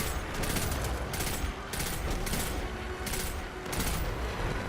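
A rapid-fire weapon in the shooter game Destiny 2 unloads in repeated bursts of quick, loud, close shots separated by brief pauses.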